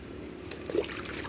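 Homemade liquid fertilizer trickles from a container onto tomato and bean plants in a garden. It is a faint, steady pour lasting about a second, with no voices.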